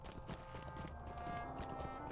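A mount's hooves clip-clop in a fast, steady rhythm in the online game The Lord of the Rings Online, quiet and continuous with no talk.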